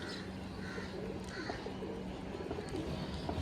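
A male pigeon coos softly in a few low repeated phrases, faint against a steady noisy background.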